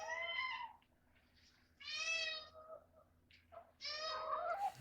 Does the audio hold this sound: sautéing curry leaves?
no